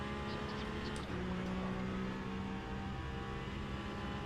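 An LMP2 prototype race car at Monza in the sim game Le Mans Ultimate, its engine droning at high revs with a rising and shifting tone, steady and fairly loud.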